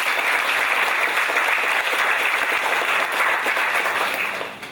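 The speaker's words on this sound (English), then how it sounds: "let's give a round of applause to Professor Jaga." A crowd applauds steadily, a dense wash of clapping that holds at full strength and begins to fade at the very end.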